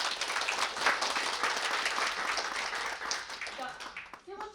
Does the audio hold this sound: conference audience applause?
yes